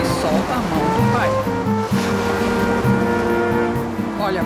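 Sea waves washing onto a shore, a steady broadband surf wash with gentle swells, heard continuously at moderate level with music-like tonal layers running beneath.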